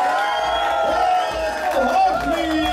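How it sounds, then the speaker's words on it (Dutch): A crowd cheers, whoops and applauds at a kickboxing fight, a steady roar of voices with an announcer's voice riding over the top. "Een applaus voor Yassine."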